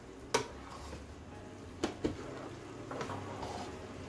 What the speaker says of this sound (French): J'ajoute maintenant les grains de maïs, ainsi que les petits pois. Et on va le mélanger délicatement.